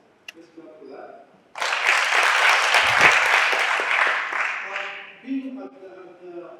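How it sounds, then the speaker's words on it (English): Workshop attendees in Uganda break into loud, full applause that starts abruptly, holds steady for several seconds, then stops, with a speaker talking before and after. "Let's clap for that."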